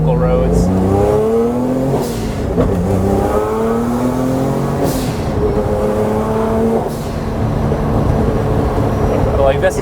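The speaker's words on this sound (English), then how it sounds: "I can take it to redline pretty safely" A fully built turbo Honda NSX engine revs hard through the gears on the road, its rising pitch sweeping upward in repeated pulls with brief dips at shifts, loud and close throughout.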